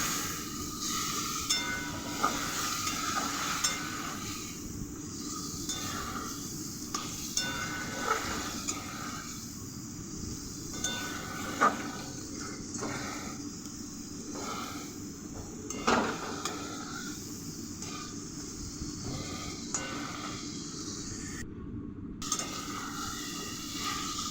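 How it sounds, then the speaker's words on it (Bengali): Potatoes frying in a pan with a splash of water for a vegetarian potato and soybean curry, giving a steady, even sizzling hiss throughout, with a few light clinks of a utensil against the pan. "এরপর আমি জল দিয়ে একটুখানি সামান্য জল দিয়ে এটাকে আমি একটু ভালো করে কষে নেব আলুগুলোকে"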